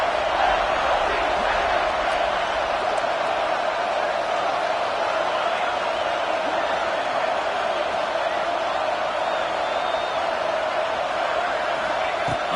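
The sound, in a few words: stadium crowd noise from College Football 25 video game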